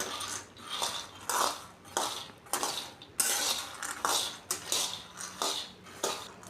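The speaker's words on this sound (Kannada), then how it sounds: "ಶೇಂಗಾ ಕೆಂಪಾಗೋವರೆಗೆ ಕೈ ಆಡಿಸ್ಕೊತ ಹುರ್ಕೊಳ್ಳೋಣ" Peanuts are roasted and stirred in a pan, giving repeated rasping, scraping strokes in a steady back-and-forth rhythm, close and fairly loud, with no voices.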